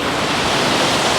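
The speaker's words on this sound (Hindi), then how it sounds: "काफ़ी ऊंची ऊंची लहरें जो है वो यहाँ पे फ़िलहाल आ रही है।" High ocean waves break on the beach at Catherine Hill Bay in New South Wales, a loud continuous roar of surf with no pauses and no voices.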